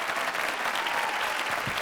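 Steady applause from a poetry mushaira audience fills the whole moment, a dense wash of many hands clapping at once.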